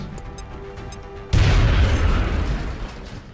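A grenade explodes in XCOM: Enemy Unknown, a sudden loud boom with a rumbling tail that fades over two seconds after some quiet game sounds.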